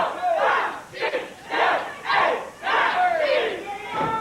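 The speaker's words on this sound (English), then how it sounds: "The crowd pulling for Vic Grimes" A wrestling match crowd cheers and chants in loud, surging waves, rising and falling roughly every second in an arena as the fans rally behind a wrestler.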